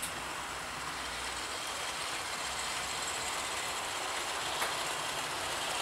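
A Bachmann Patriot model train locomotive runs with a steady, faint mechanical whir and rail hiss throughout, continuous and even with no voices over it.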